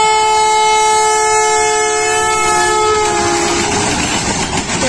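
Pakistan Railways Rahman Baba Express arriving at Nur Junction behind a PH20 locomotive, a loud sustained multi-tone horn blast that fades into the rumbling roar of the approaching train, close and overpowering.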